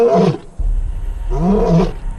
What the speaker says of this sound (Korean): 늙은 숫사자들이 할 수 있는 건 큰 울음소리로 경고를 보내는 것뿐이지만